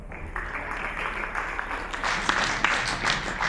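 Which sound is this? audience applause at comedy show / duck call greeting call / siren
audience applause at comedy show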